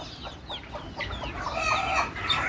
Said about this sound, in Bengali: এই যে আমার মুরগি সবগুলা দেখেন, কোষা মুরগি যেগুলো